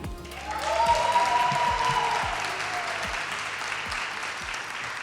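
Warm applause from an audience welcoming a guest doctor to the stage at a breast cancer awareness talk, swelling quickly and holding steady as a dense wash of clapping with a few deeper thumps underneath.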